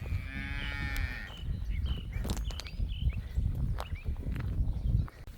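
Dairy cows crowd a livestock trailer, lowing in long, loud moos that overlap close by, with hooves shuffling and thumping on the floor throughout.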